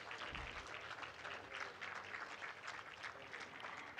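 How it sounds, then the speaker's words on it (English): Applause from a conference audience at an award ceremony, with dense, steady clapping that sounds distant and faint across the whole stretch. "Dr. Shafiullah Jan, I hope you can give a big round of applause"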